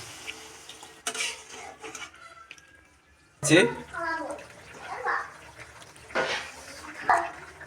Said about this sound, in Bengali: শেষ, এখন জল দিয়ে দিচ্ছি।